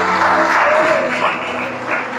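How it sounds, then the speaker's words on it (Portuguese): A congregation at a sermon applauds in a brief, steady wash of clapping that holds at an even level throughout. "E assim palmas a Jesus de Nazaré"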